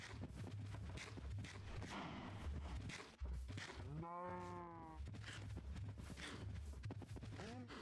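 A cow moos once in Minecraft, a mid-length lowing call under constant background game noise and shuffling thuds as cows are bred on a farm.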